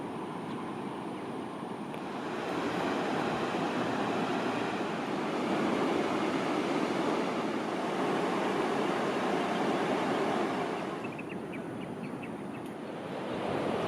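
Waves breaking on Balangan beach, Bali, where surfers ride the swell: a continuous wash of surf and wind that swells louder in the middle and eases off toward the end, with no one talking.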